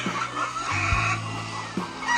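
Young hens in cages at a poultry farm, a few close clucks and a drawn-out squawk over a steady background hum of the farm.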